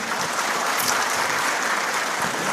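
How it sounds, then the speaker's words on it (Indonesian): Applause from the audience at an Indonesian LDII gathering honoring women leaders, a continuous dense roar of many hands clapping at a steady, even level. "kita beri tepuk tangan untuk mereka"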